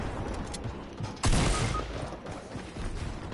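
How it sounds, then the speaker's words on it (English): Rockets fire at the player in a PS4 shooter game, heard as a dense, loud roar of gunfire and explosions with a sharp blast partway through, continuing without a break and with no voice over it. "There's one shooting rockets at me."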